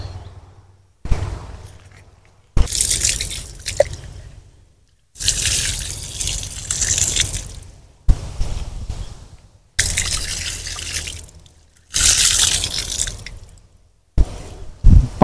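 Water is poured around the base of a mango tree after fertilizer is applied on a farm, coming in several separate splashing, trickling bursts with quiet pauses in between, close by and without talking.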